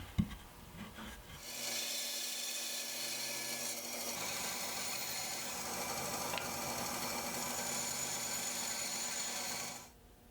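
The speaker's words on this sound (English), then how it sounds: "Now I'll use the bandsaw to trim the tenons to size." A bandsaw trims Douglas fir tenons: the motor spins up, then a steady, loud cutting whine and rasp holds for about eight seconds before the blade clears the wood and winds down.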